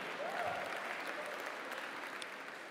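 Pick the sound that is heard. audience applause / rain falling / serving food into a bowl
audience applause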